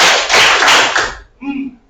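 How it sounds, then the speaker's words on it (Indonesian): A class of students in a classroom claps together in a rehearsed counting pattern, a quick burst of sharp, crisp hand claps close by, followed by a brief voice. "Tepuk 1, 2."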